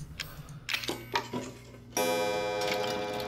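Pendulum clock in the Resident Evil 7 game, ticking in a steady rhythm of distinct clicks that jump to a louder, fuller chiming tone partway through.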